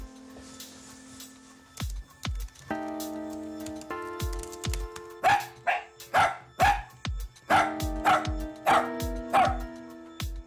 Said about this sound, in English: So he's barking at the bin lorry then